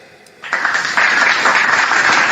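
Applause from an audience at a religious sermon breaks out suddenly and continues as steady, dense clapping that fills the room.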